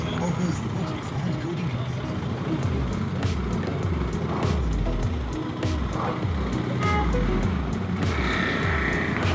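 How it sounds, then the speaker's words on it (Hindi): Heavy car traffic at the Bengaluru airport entry: a dense, continuous rumble of engines close by, with a rhythmic low pulsing and scattered horn-like tones, while someone talks over it. "ये तो यार हद से ज़्यादा ट्रैफिक हो गई"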